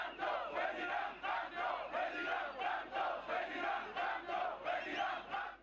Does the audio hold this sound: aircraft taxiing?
no